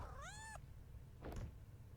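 A cat meows once in the video game Impostor Factory, a clear rising-and-falling cry close up, then a short soft muffled sound over a low steady hum, with no talking.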